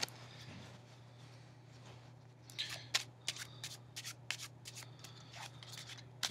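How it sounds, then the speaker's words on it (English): Playing cards being shuffled up close: a run of quick, crisp riffling bursts and snaps in an irregular rhythm over a steady low hum, with a short quiet stretch before the shuffling starts. "We can shuffle it or whatever."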